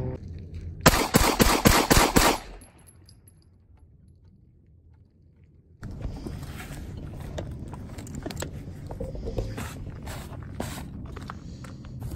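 A rapid string of sharp, loud gunshots fires into a backpack during a bulletproofing test, the burst of roughly six shots landing close together, followed by quiet and then handling noise and movement.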